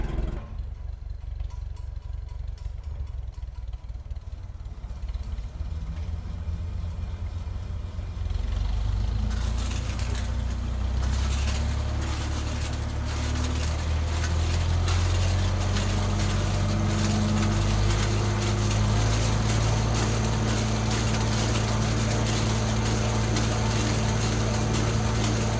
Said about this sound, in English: I'm gonna let the tractor warm up for a minute